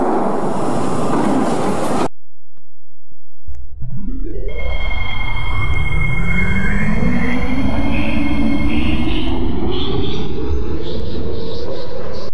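A Roblox Delta Line 9700 Series train departs the platform: a burst of noise, a brief lull, then a steady rising electric motor whine with rolling wheel rumble as it picks up speed, loud and close throughout.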